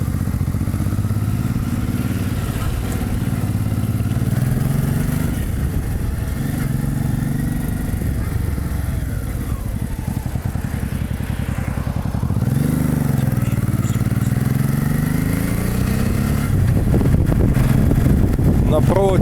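Motorcycle engine droning steadily while riding on the road at a motorcycle rally, with heavy wind buffeting the microphone and occasional shifts in engine pitch throughout.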